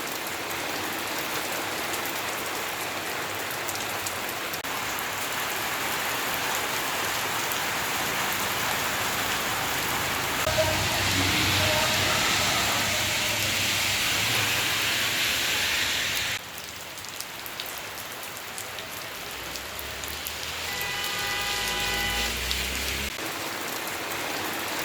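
Heavy unseasonal rain pours down in Aravalli district, Gujarat, a dense, steady hiss of drops striking surfaces that carries on throughout and eases slightly partway before building again.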